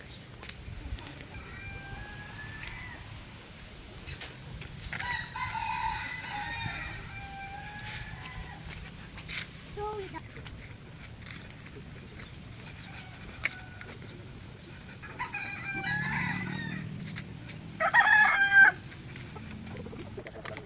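Chickens cluck and call intermittently nearby, with a rooster crowing loudly toward the end over a quiet outdoor background.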